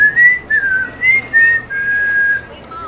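A person whistles a short, clear tune of several rising and falling notes, close and alone.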